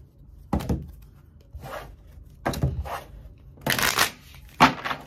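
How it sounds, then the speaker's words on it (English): A deck of tarot cards being shuffled by hand in several separate bursts of riffling and sliding, close and crisp with short pauses between. "shuffle up these cards."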